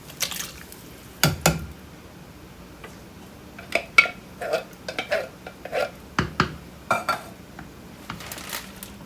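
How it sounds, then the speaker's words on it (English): Diced tomatoes go into a pot of spicy sausage soup: a scattered run of close clinks, soft wet plops and metal pot knocks, with no talking. "Now I added the diced tomatoes."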